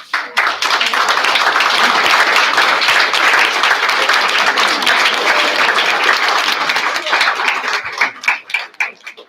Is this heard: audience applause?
yes